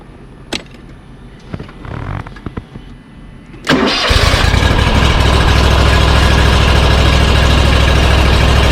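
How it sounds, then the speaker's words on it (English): A commercial lawn mower engine cranks and fires up after a few quiet clicks and handling noises, then settles into a loud, steady idle that runs continuously to the end. "Now let's fire it up, see if there's any leaks"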